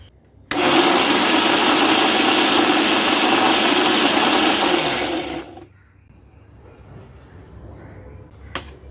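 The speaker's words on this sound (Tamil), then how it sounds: "இப்போ வெங்காயத்தை அரைப்போம்." A mixer grinder blends onions for chutney, whirring loud and steady for about five seconds before cutting off, followed by a quiet background and a brief click near the end.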